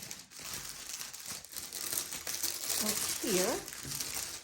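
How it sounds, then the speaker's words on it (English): The plastic packaging of a diamond painting kit crinkles and rustles close by, with handling noises throughout and a person speaking briefly over it. "Sorry for all the crinkling."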